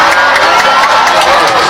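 A crowd at a political rally in NTT, Indonesia, applauds and cheers together in a loud, dense burst of clapping and voices.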